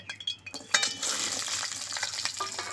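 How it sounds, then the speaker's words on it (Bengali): After a few light clinks, papaya pieces hit hot mustard oil and a continuous bubbling sizzle rises and holds, flecked with small crackles and utensil taps. "পেঁপেটাও লাল লাল করে ভেজে নেব"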